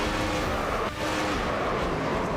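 Truck racing engines in the iRacing video game, a steady loud engine roar filling the whole stretch with only a brief dip partway through, no voices over it.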